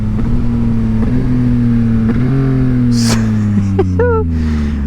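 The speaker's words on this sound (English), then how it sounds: "I'll shift down a couple gears here." A 2022 Yamaha XSR900 motorcycle engine drones loudly while riding, its pitch dropping and stepping through a couple of downshifts under heavy wind noise, with brief high squeaks near the end.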